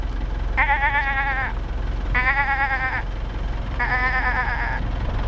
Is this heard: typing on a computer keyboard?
no